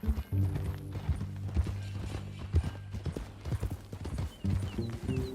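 Hooves clip-clopping in an irregular walking rhythm from a horse in the video game Red Dead Redemption 2, close and fairly loud, over low sustained background tones.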